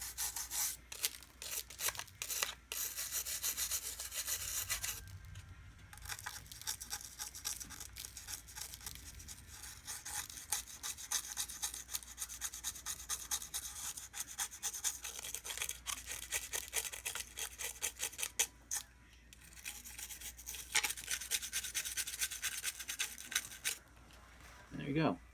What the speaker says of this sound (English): use an old toothbrush and just kind of scrub along the sides of the truck